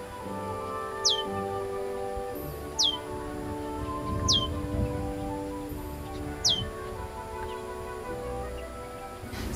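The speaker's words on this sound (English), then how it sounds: "one of the birds that we have in the spring is the red-winged blackbird" A red-winged blackbird sings in a spring shoreline setting, its short sharp calls repeating about every two seconds above a steady low hum and faint rustle, with no talk.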